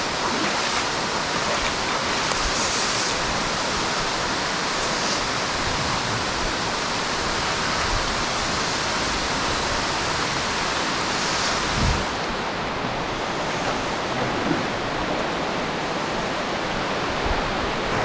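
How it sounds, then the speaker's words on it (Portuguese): Véu da Noiva waterfall at Lago Azul in Jaguariaíva, Paraná, pours in a constant dense roar of falling water, loud and steady from start to finish with no voices. "E chegamos aqui à Cachoeira do Véu da Noiva, na cidade de Guaraíva"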